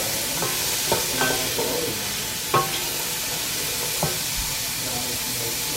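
Chopped celery sizzles in a soup pot as it is stirred, giving a steady frying hiss broken by a few scraping stirs, close and moderately loud.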